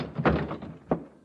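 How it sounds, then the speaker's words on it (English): A door being crashed open in a radio drama gives three heavy thuds, one big hit followed by two sharper blows, close and with no voices over them. "Crash the door, Logan."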